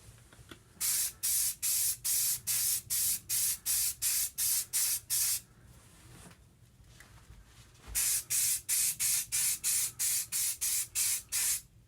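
White spray paint hisses through a stencil onto Necromunda Warhammer gaming table tiles in rapid, evenly spaced short bursts: a long run of about a dozen, a brief pause, then another steady series, loud and close.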